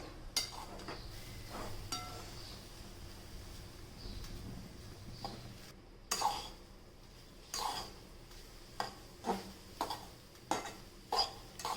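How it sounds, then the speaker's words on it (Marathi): Grated fresh coconut is stirred into ghee in a pan for coconut burfi, with a soft sizzle under repeated scraping strokes of a spoon against the metal, each stroke clinking clearly in a loose rhythm. "खिसून आता तो आपण चांगला तुपामध्ये मिक्स करून घेऊयात"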